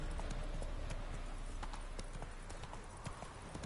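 Horse hooves clip-clop at a steady trot in The Witcher 3, a continuous close rhythmic patter of hoofbeats lasting the whole stretch over a constant ambient bed.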